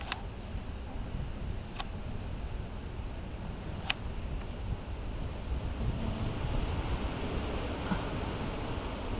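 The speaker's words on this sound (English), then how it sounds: "that wind is really picking up" Wind blowing outdoors around a farmyard with chickens, ducks, rabbits and a pig, a steady broadband rush that swells slightly toward the end, with a couple of faint sharp clicks early on.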